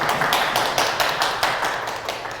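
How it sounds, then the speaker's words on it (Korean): A live audience of education officials applauds in a lecture hall, a dense patter of many hands clapping steadily and fading slightly toward the end, with no talking. "박수는 효과음이 아니라 여기 직접 오신 그 교육장님하고 장사님들이 와 계시고요"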